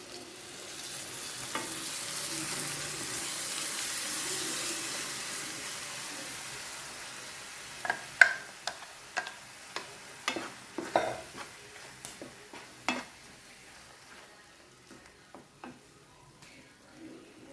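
Ground masala paste for a Kannur-style seer fish mappas hits a pan with a soft sizzle, followed by a series of sharp scraping stirs and clinks against the pan, fairly quiet with no talk.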